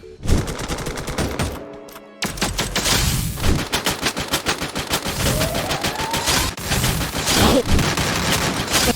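Rapid automatic gunfire in the mobile shooter game Free Fire Max, with dense repeated bursts of shots and occasional booms that fill nearly the whole stretch, loud and close, with no clear talk.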